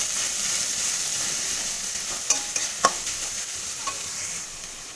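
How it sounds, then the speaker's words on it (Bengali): Sliced onions fry slowly over very low heat in a pan, a soft steady sizzle with a few brief stirring clinks and scrapes, close and without talk. "খুব কম আঁচে এই পেঁয়াজটাকে ভাজবো আস্তে আস্তে করে।"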